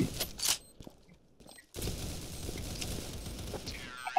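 Gunfire in the Roblox shooter Counter Blox, heard as sharp bursts of shots at the start followed by a steady dense roar of game noise and scattered impacts, fairly loud throughout.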